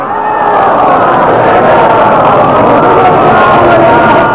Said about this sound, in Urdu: چلیے بلند آواز سے صلوات بھیجیں محمد۔